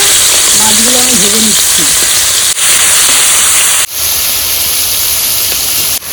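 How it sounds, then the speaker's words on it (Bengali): Fish coated in salt and turmeric sizzle loudly in hot oil in a pan, a dense, steady hiss with brief dips, and a faint voice hums early on. "মাছগুলো আমি ভেজে নিচ্ছি"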